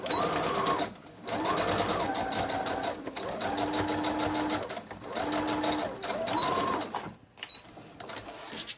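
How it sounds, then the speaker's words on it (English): A sewing machine stitches a gold pleather journal cover in several loud, rapid runs with short pauses between them, close up, ending in quieter handling sounds. "Okay, finished sewing."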